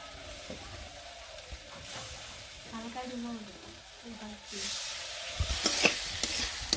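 Leafy greens with chili frying in a pan in a village kitchen, a soft continuous sizzle with spoon stirring and scraping, growing louder near the end; faint voices murmur in the background.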